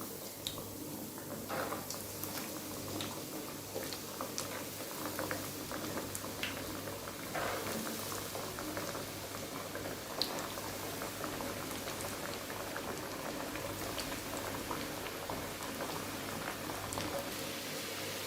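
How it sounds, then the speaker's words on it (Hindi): Chicken nuggets bubble and crackle steadily in hot frying oil, a continuous dense sizzle with scattered pops running throughout, fairly close and with no voices. "और अब ये जो बाकी के नगेट्स हैं इनको भी फ्राई कर लेते हैं"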